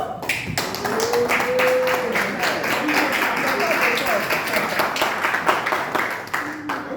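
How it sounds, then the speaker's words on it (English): Applause for a presenting group in a meeting room, with scattered hands clapping and tapping in an uneven patter and voices talking over it throughout. "Let's clap for group 1 first."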